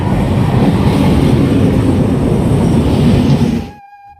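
A train rumbles loudly and steadily close by at a station with a dense low roar and rattling, then cuts off abruptly near the end, leaving faint tones.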